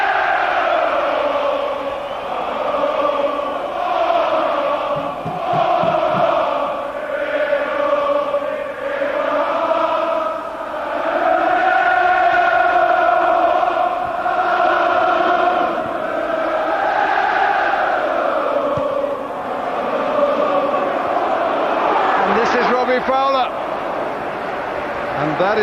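Anfield crowd celebrating a Liverpool victory over Barcelona in a 2001 UEFA Cup semi-final, a sustained loud roar with swelling chant-like waves, while a commentator talks over it.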